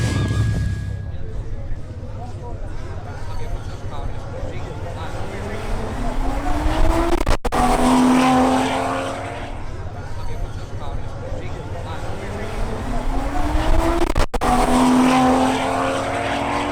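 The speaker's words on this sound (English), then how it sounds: "Next up is Juan Paez's BMW M340i xDrive" A BMW M340i xDrive launches down a drag strip, its engine note climbing steadily through the gears at strong, close volume. Announcer-style talk runs over the engine sound.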